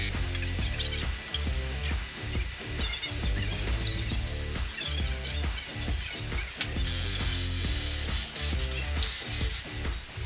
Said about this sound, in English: I'm taking my last few cradle bolts out